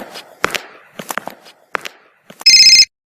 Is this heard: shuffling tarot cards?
no